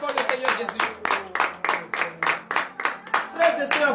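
A congregation at a morning prayer service in Comè, Benin claps in a steady, rhythmic beat, roughly four claps per second, loud and close, with a sustained keyboard or organ tone underneath.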